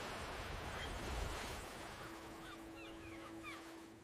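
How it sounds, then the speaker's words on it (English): Surf washing ashore at a famous white-sand Australian beach, a steady broadband roar of waves with a distant swell, thin bird calls and a faint sustained tone over it, no talking. "Wow, look at the waves."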